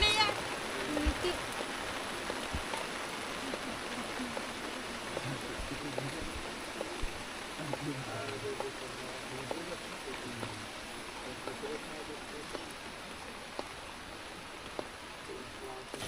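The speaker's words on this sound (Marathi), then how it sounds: "आता ना पाऊस तर काय उघडायचा नाही." Steady rain keeps falling outdoors at a dam, a continuous soft hiss of drops with scattered taps. Voices talk faintly now and then under it.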